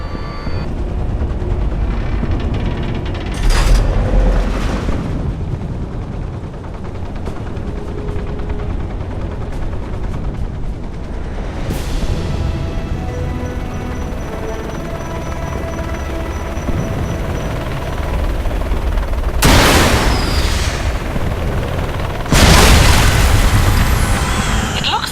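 Halbeck missiles and gunfire in an Alpha Protocol video game cutscene: a dense, roaring battle din, with loud booming explosions striking at several points over sustained rumble.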